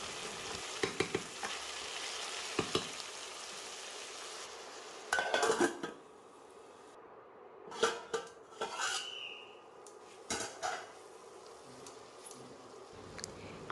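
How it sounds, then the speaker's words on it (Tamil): Vegetables sautéing in a pan for brinji rice, a continuous close frying hiss with clattering spoon-and-pan scrapes and clinks in bursts, including a loud clustered stir midway, with no talking. "இதை வதக்கிட்டு மூடி போட்டு ஒரு 5 நிமிஷம் வேக விடலாம்."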